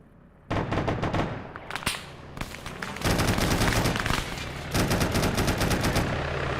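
Bursts of automatic gunfire in a military video game, aimed at a UAZ vehicle: rapid rattling volleys, loud and close, come in several stretches separated by short pauses, with no talking.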